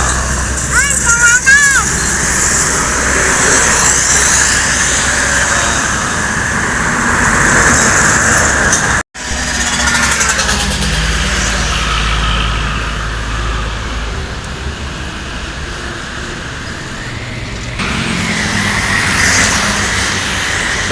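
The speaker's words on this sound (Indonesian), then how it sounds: "Ini ada bus pariwisata." A tourist bus drives past on a road, its engine and tyre roar steady and loud amid traffic noise, with a person talking over it throughout.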